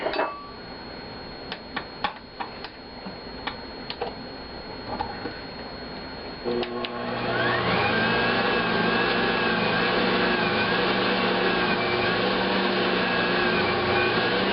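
An Electrolux Magic Mill (Verona, now Ankarsrum) stand mixer kneads bread dough with its scraper put back in the bowl. Irregular knocks and clicks come first, then the motor swells into a loud, steady hum and whine that runs on to the end.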